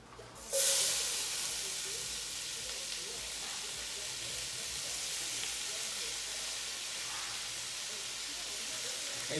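Vegetables dumped into smoking rendered bacon fat for a chili, a sudden hiss at the drop that settles into a faint, steady sizzle running alongside quiet background noise.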